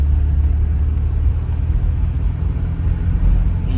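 A 1986 Porsche 944 engine drones as a low, steady rumble from inside the moving car, with continuous road noise and no talking.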